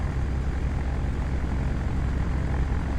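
A DC-3 in Flight Simulator X taxis on its propeller engines, a close, steady, throbbing drone with no pauses and no talk.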